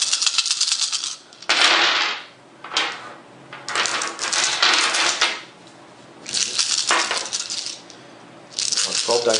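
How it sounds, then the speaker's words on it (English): Twelve dice for a board game rattle and clatter onto a hard surface in several loud bursts of clicking tumbles, separated by short pauses, close up. "Well, 12 dice are hard to roll at once."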